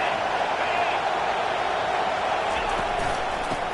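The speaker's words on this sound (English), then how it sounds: "It is getting loud as this crowd tries to help its defense." Football stadium crowd roaring in a sustained wash of noise to rattle the opposing offense during a game, a broad loud din with a few sharp thumps beneath it.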